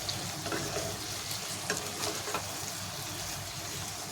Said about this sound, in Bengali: ঢাকনিটা খুলবো, একটু নাড়াচাড়া করে দেবো।